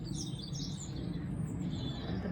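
Birds sing and chirp continuously in a garden on a morning, a layer of faint, overlapping high calls over steady low background noise, with no talking.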